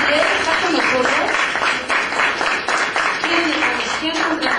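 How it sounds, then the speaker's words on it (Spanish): Congregation clapping in a church service, a dense, steady wash of applause that fills the space without pause, with speech mixed in underneath. "démosle un aplauso al Señor"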